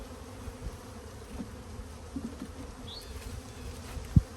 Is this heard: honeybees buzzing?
yes